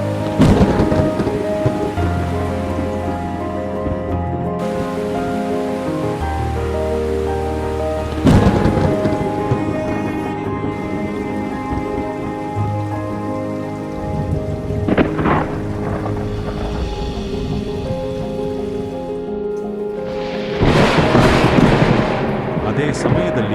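Heavy rain and a thunderstorm play beneath steady tonal music, with about three loud thunder bursts cracking and rumbling through the rain noise.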